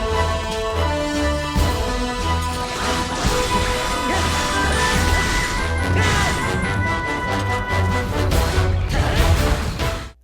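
The intro of a video game theme, with oboe and piccolo over a full, dense arrangement with steady percussion, loud and continuous until it ends abruptly.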